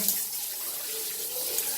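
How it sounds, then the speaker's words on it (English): Water sprays from a Flexispray Bermuda II hand shower on a pressurised setting, a steady close hiss of rushing water with a slight rise and fall and no speech. "a little bit of water in the middle, high pressure in the middle, and a little bit soft on the outer ring"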